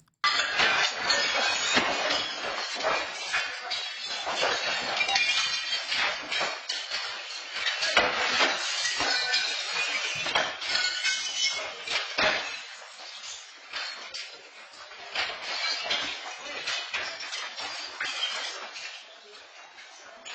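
Glass display cases smashed during a jewelry store robbery in New Jersey, a dense stretch of crashing, clinking glass and sharp impacts, loud and continuous with ragged bursts throughout.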